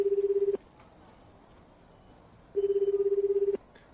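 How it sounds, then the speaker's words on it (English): Two steady electronic phone tones as a call button is pressed, a half-second beep, then a pause of about two seconds, then a longer one-second tone, close and clean in a quiet room. "With trembling fingers, I managed to select the number and press the call button."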